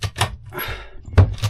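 A holiday home door is shut and locked with a series of close, sharp knocks and clunks, a rattling latch movement in the middle, then a final solid thud.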